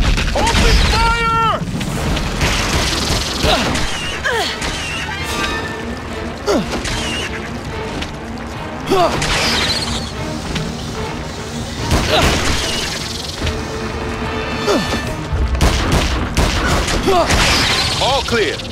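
Repeated gunfire, crashes and booms from a King Kong video game battle, loud and dense throughout, mixed with game music and bursts of character shouting.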